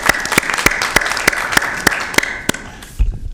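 A small group claps at a public library authority board meeting, the claps sharp and fairly evenly spaced, fading out near the end.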